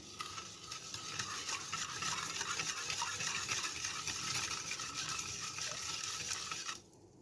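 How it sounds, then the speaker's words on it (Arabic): A spoon stirs orange juice and sugar briskly in a glass, a continuous swishing with faint clinks, close and quiet, stopping abruptly near the end. "عندي كوباية عصير برتقال، عندي سكر. هبدأ اقلبه كده مع بعضه"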